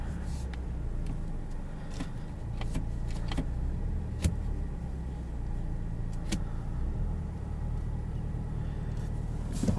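A 2020 Volkswagen Jetta GLI engine idling in sport mode, a faint low steady hum with a few small clicks and knocks over it, heard from inside the cabin.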